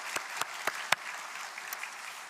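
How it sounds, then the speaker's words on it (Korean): A church congregation gives a short round of scattered clapping to encourage newcomers, a few sharp distinct claps at first and then a thinner, softer patter, fairly quiet and heard without any talking. "큰 맘 먹고 교회에 나오신 분들을 위해 다시 한번 박수로 격려하면 좋겠습니다"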